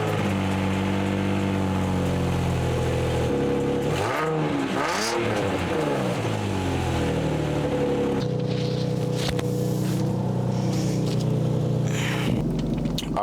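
A car engine with an exhaust leak idles roughly, revs up with a sweeping rise and fall, then settles back into a steady loud rumble, close and continuous.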